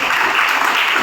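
A college audience claps continuously in dense, steady applause, loud and close throughout, with no distinct voices.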